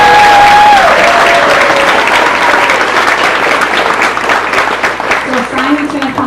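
Loud, dense applause from a graduation audience for the master of ceremonies at an eighth grade ceremony, sustained throughout with a brief whistle at the start and crowd voices mixed in.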